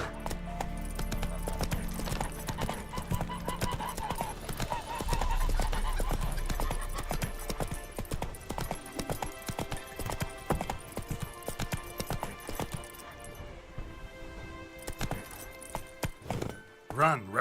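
Roach, a horse in The Witcher 3, galloping in rapid hoofbeats with game music and ambience, growing sparser and lighter toward the end.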